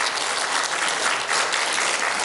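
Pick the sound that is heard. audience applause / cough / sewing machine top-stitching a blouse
audience applause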